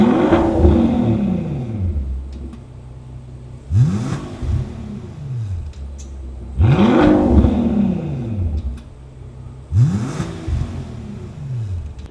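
A Rolls-Royce Cullinan with a Mansory center exhaust revs hard four times, each throaty burst rising in pitch and then settling back to a low idle rumble between blips.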